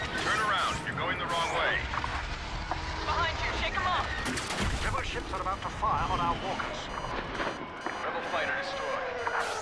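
Ships open fire on a walker in Star Wars Battlefront, heavy booming blasts and rumbling explosions layered with game voices and battle noise, loud and continuous throughout.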